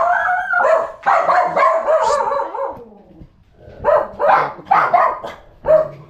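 Several dogs bark and yip close by in quick overlapping bursts, pausing briefly before another flurry of barks.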